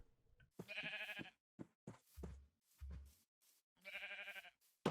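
Two bursts of sheep bleating in the game Minecraft, short wavering bleats separated by a few soft knocks and thuds, close and clear against otherwise quiet surroundings.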